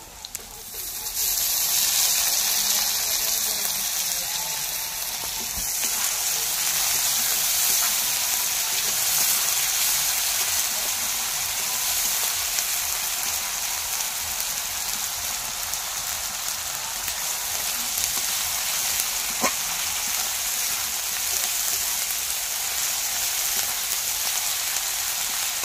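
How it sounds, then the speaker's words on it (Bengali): Ginger-garlic paste goes into onions already fried in mustard oil, giving a close, rain-like crackle and spatter that holds steady for the whole stretch, with faint voices only now and then. "এবার আদা রসুন বাটাটা দিয়ে দেবো।"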